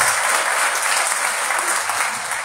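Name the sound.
church congregation applause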